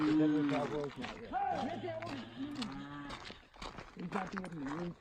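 Cattle low and moo repeatedly along a Forest Service road, their calls loud and close and layered with the voices of people talking nearby.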